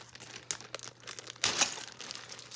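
Taped toy packaging for a Barbie Glitter Girls sweet shop set is pulled open, giving close crinkling and tearing bursts with a louder rip midway and scattered rustles.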